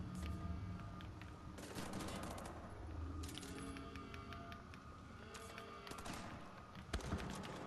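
Rapid automatic gunfire rattles in dense bursts during combat in Wolfenstein: The New Order, with short pauses between volleys and a sharper crack near the end, all at a fairly quiet level.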